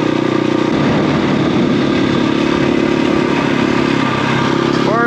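A KTM 500 EXC-F motorcycle engine runs loud and close at a steady idle-like drone throughout, with a brief change near the end.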